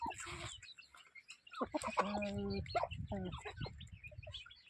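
Chickens cluck and murmur nearby on a small native chicken farm, with one hen giving a drawn-out, rising call amid scattered scratching and pecking sounds.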